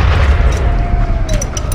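A deep, rumbling boom from a blast in the First World War video game Valiant Hearts: The Great War, loud and sustained over the whole moment, with a faint whistling tone sliding through it and no talk.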